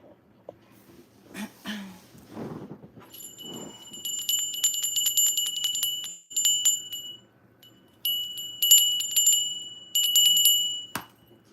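A small bell that has come loose rings in rapid, tinkling bursts, several clustered rings separated by short pauses. It starts after faint rustling and breathing and is fairly close and clear.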